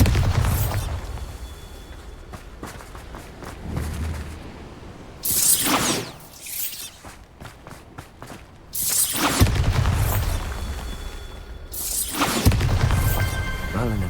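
Bombarda explosion spell cast in Hogwarts Legacy, a loud booming blast bursting out at about six seconds and again near nine and a half seconds, each trailing into a rumbling roar over a dense game soundscape.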